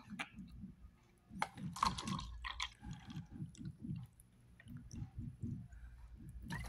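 Liquid sloshes and clicks in a glass of water as soluble medicine is prepared, with irregular wet squishing and small knocks close by, and no speech.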